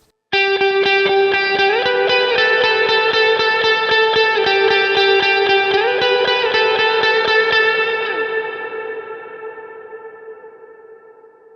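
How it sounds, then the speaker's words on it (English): A distorted electric guitar lead line plays a sustained melodic phrase through a preset with heavy, washy ambient reverb. The final notes ring out and decay slowly into a long reverb tail. "we went from no reverb to reverb"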